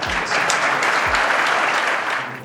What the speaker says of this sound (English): Could you please help me give a warm welcome to James A. Haslam?